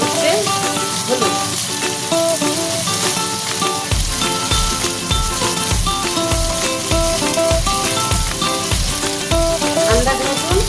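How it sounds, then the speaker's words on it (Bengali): A taro and fish curry sizzles loudly in a hot pan as it is stirred, with a continuous frying hiss under steady rhythmic background music. "এইবার নাড়া দিব।"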